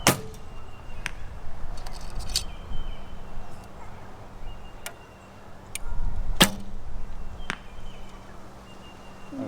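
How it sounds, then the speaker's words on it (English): Several sharp barebow arrow releases and thwacks at irregular intervals, each a crisp snap over outdoor ambience with a faint low hum. "So we're going to fling some arrows for you."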